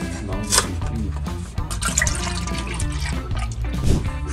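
Milk, 360 to 400 ml, pours steadily into a pot for rosé tteokbokki, a continuous close liquid splashing and gurgling throughout.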